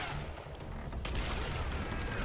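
Enemy gunfire in the video game Tomb Raider, a dense run of shots and bursts that grows sharper and louder partway through, with no voices over it.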